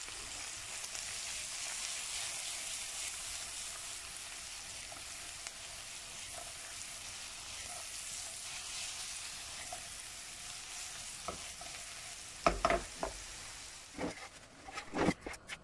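Liver sautés with black pepper in a hot pan, a continuous soft sizzle running evenly before a few sharp utensil knocks and clatters near the end.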